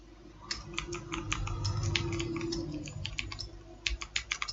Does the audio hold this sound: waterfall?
no